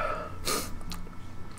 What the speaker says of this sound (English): My sneeze made me miss that one.